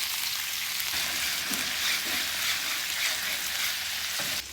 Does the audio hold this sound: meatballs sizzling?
yes